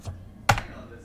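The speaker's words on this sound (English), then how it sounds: "So if we go and hit enter here," A single sharp computer keyboard key press, the enter key struck on a Windows PC, lands near and clearly as one crisp click amid quiet room tone.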